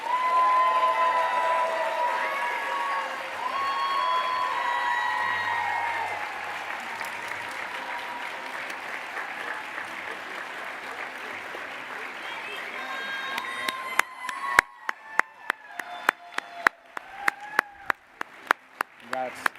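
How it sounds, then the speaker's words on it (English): At an annual meeting awards ceremony, a large audience applauds steadily, the clapping thinning out toward the end into scattered individual claps with voices murmuring underneath. "Big round of applause for all of our new fellows."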